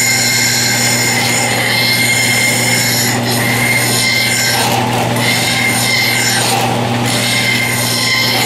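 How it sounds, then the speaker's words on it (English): An ordinary hand file rasps steadily against a metal lathe tailstock, a continuous loud scraping with a constant hum underneath and a few stronger strokes midway, no talking. "We're going to use just an ordinary file."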